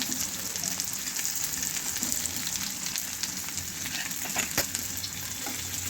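Onion sizzles in hot oil in a wok, a dense, steady crackling hiss that is close and fairly quiet, with faint stirring clinks and no speech.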